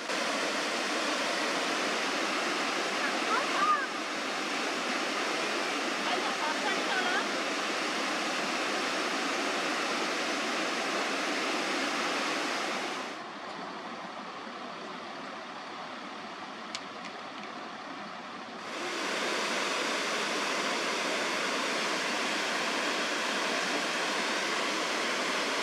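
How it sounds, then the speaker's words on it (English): Steady roar of Lundbreck Falls in Alberta, a 12-meter waterfall split in two by a small island, a dense wash of falling water that dips quieter for a few seconds midway before returning to full strength. "The small island at the top divides the 12-meter waterfall in two"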